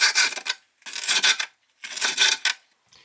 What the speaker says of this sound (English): I usually cut the pepper into strips.